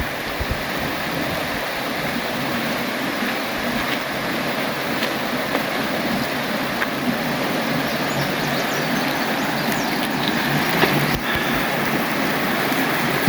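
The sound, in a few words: river flowing in Arkansas woods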